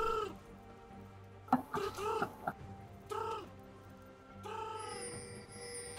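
Clucking chickens, the raptor camp creatures in League of Legends, give several short squawks and clucks in quick bursts, moderately loud over quiet game ambience with no talking.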